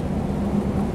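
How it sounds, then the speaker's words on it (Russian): Rain heard from inside a moving coach bus travelling through Belarus on a Paris to Moscow route, a steady, dense wash of drumming and road rumble with no break. "Вот идет дождь."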